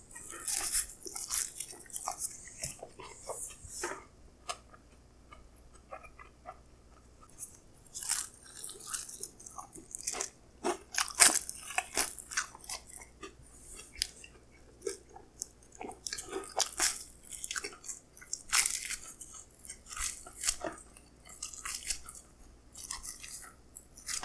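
Close, steady chewing and crunchy biting into a salad-topped pizza, with repeated crisp bites and mouth sounds spread across the whole stretch and no talking.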